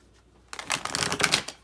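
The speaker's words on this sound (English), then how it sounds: "I think those are shuffled good enough" Tarot cards from an Archetype deck are shuffled by hand, a dense run of papery riffling and slapping about a second long that starts suddenly after near-silence, close and fairly loud.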